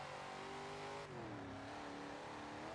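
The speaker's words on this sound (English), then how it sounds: "And just listen to this exhaust. Thing is a monster." A track car's engine and exhaust roar loudly and continuously on a racing circuit, with the pitch dropping suddenly midway as the driver shifts or lifts, then holding a deep droning note.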